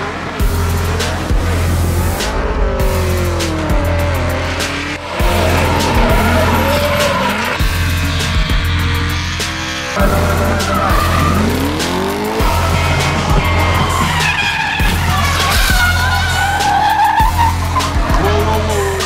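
Drift cars at a drift competition in Vinnytsia, Ukraine, roar and rev hard while their tires squeal and skid in long screeching slides, passing close and loud one after another.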